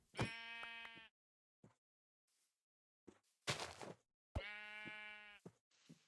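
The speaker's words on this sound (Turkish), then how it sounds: "Bir koyun sesi daha duydum." Sheep in the Minecraft video game give two clear, buzzy bleats separated by silence, with a few short clicks and bursts of game noise between them.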